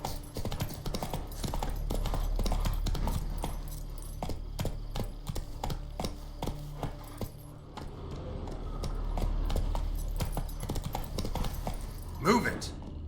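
Horse hooves clip-clopping at a steady galloping rhythm in The Witcher 3: Wild Hunt, moderately loud and continuous under game ambience.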